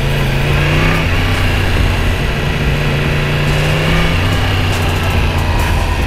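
Yamaha MT-10 motorcycle engine pulling hard under acceleration, a loud, steady, close drone with a rising harmonic tone and constant wind rush throughout, no speech.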